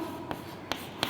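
Marker or chalk strokes on a classroom board, three short scratchy taps in quick succession, close and fairly quiet.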